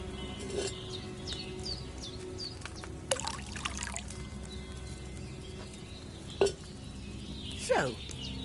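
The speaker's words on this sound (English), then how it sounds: "So, what did you pour in there? Wine, of course." Wine trickles into a cauldron in the medieval alchemy setting of Kingdom Come Deliverance 2, a soft, quiet pour under a faint hum, with a few light clinks and splashes and a distant bird.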